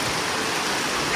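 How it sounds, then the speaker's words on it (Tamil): Rain beginning to fall outdoors in a village cooking spot, a dense, even, fairly loud hiss that stays constant for about a second with no voices. "மழை வருது வரட்டும்"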